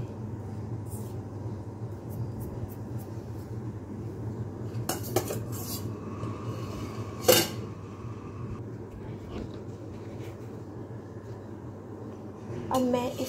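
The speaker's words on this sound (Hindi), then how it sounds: "मैं इसको मिक्स कर लूँगी दोनों चीज़ों को।" Flour and lentil mixture being mixed in a bowl, with a few scattered spoon clinks and scrapes over a quiet room hum.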